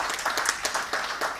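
A conference audience at an inaugural plenary session claps in a dense, fairly close burst of applause, with uneven, overlapping hand claps throughout the short stretch.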